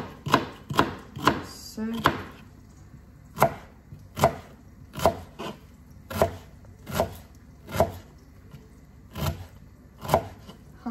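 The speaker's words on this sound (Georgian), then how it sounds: "დავჭრათ ხახვი." A knife chops an onion on a cutting board in a home kitchen, about a dozen distinct, crisp thuds in an uneven but steady rhythm, close and clear, with one brief spoken word in the middle.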